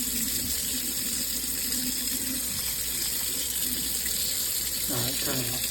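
Water runs steadily from a kitchen tap while a pan is washed, a constant close gush with a voice briefly heard near the end.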